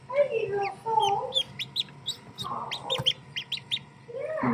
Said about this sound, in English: One baby duck came out of its egg.